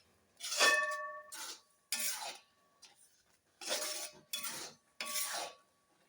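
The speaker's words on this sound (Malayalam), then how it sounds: "ഇനി ഇത് നന്നായിട്ട് നമുക്കൊന്ന് ഇളക്കി കൊടുക്കാം" Beetroot halwa with sugar is stirred in a pan. About five separate scraping, clinking strokes come in bursts with short silent gaps between them, close and fairly loud, with no talking.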